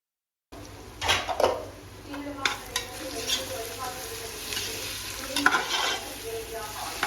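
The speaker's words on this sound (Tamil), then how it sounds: "இஞ்சி பூண்டு பேஸ்ட் போட்டுட்டு அது நல்லா கொஞ்சம் எண்ணெயில் அப்படி வதக்கி விடலாம்" Ginger garlic paste sautés in hot oil in a pan for mutton biryani, a soft sizzling hiss broken by several close stirring scrapes and clinks of a spoon against the pan.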